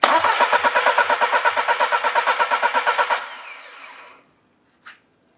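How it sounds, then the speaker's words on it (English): A car engine cranking with one cylinder's sensor cable disconnected for a compression test, a rapid rhythmic chugging for about three seconds, then winding down to silence, followed by a small click. "And I can crank the engine."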